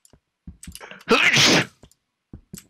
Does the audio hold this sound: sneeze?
yes